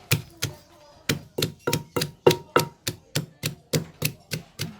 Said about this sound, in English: This chili is super spicy, so I will put only a little bit, and a bit of papaya and the garlic, and we're gonna pound it.